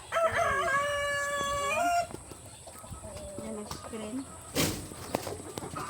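Rhode Island chickens on a small farm: a rooster crows loudly and close for two seconds, then scattered softer clucks follow, with people talking in between.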